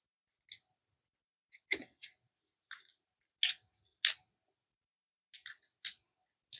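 Scissors snip open the wrapper of an emergency food bar, giving about ten sharp, close, isolated cutting clicks with short crinkles of packaging between them and quiet in the gaps.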